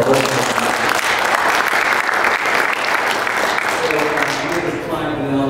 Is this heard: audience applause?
yes